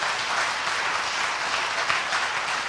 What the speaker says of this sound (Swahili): Tumpikie Bwana makofi.